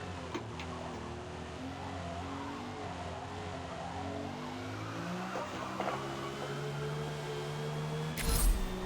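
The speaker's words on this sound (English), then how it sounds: "That tire squeal just means tire wear" A '75 BMW 3.0 CSL racing at Mid-Ohio in Forza Motorsport holds a steady engine drone with rising, shifting tones as tires squeal under cornering load, then a sharp burst near the end.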